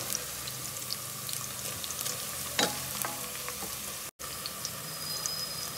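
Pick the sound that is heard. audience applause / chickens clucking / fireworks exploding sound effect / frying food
frying food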